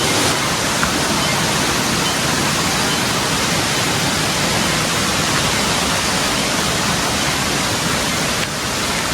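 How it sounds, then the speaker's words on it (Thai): Steady, dense rushing of water fills the whole stretch, a constant broadband roar like a nearby waterfall or fast stream, with no pauses, beside a forest walking path in Mae Kampong village, Chiang Mai. "ตลอดทางที่เดินก็จะได้ยินเสียงน้ำไหลตลอดเลยนะคะ"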